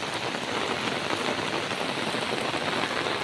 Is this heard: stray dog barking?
no